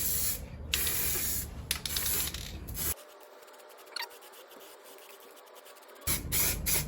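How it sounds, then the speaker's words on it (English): Spray gun laying a wet coat of paint over body filler on a Jeep Patriot, hissing in close bursts with a quieter pause between passes. "So I'm now going for the third coat,"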